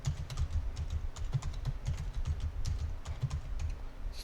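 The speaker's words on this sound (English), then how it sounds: "A lot of typing of passwords here." Rapid, steady keystrokes on a computer keyboard while passwords are entered over a remote desktop session, a close, continuous clatter of soft taps with no voices.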